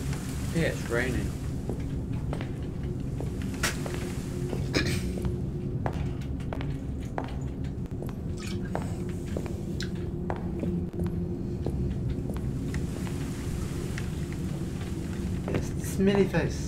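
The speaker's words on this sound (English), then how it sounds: "Yeah, it's raining." Steady rain falls in an animatronics survival video game, a constant soft patter with scattered sharper drops and faint distant rumbling throughout.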